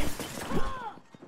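A brief crash of something shattering and breaking in the video game My Pet Hooligan, a single close burst that trails off with a ringing tone.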